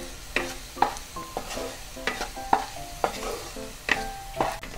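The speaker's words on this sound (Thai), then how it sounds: "ไม่ต้องรอให้น้ำมันร้อนมากก็เทกระเทียมลงไปได้เลยนะคะ" Garlic frying in a small amount of oil over medium heat in a pan, stirred with repeated utensil scrapes and clinks over a soft, steady sizzle, close by with no talking.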